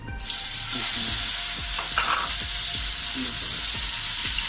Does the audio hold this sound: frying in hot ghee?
yes